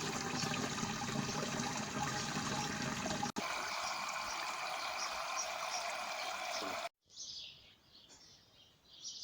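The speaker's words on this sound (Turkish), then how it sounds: "üzerini su ile tamamlıyorum" Water pouring steadily into a container to top up a pesticide slurry for vines, a continuous broad rush that cuts off abruptly near the end, followed by a quieter trickle.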